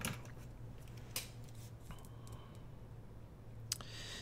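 Scissors snip through scrap paper cut down to notebook size: a few quiet, separate cuts and light rustles over a steady low hum, with no talking.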